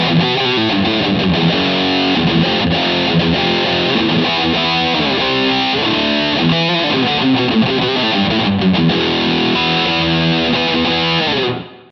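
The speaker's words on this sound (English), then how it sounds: "MT zone, the Boss Metal zone." Electric guitar played through a Boss Metal Zone distortion model on a Harley Benton DNAfx GiT Pro, a loud, high-gain, saturated tone with steady chugging riffs and chords, continuous throughout before a quick cutoff at the end.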